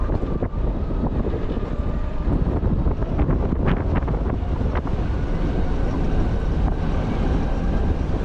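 Strong wind buffets the microphone outdoors, a steady, loud, rumbling roar that lasts the whole stretch with no talk over it.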